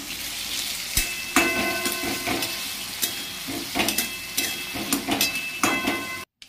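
Potatoes with salt and turmeric fry in mustard oil in a wok tempered with five-spice seeds: a steady close sizzle broken by repeated sharp metallic clinks and scrapes of stirring, with no talk.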